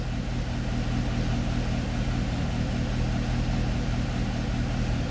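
A Chevrolet Corvette engine runs at a steady idle, a continuous loud drone with no change in pitch and no voices over it.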